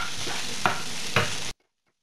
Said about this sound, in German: Dann von allen Seiten schön anbraten.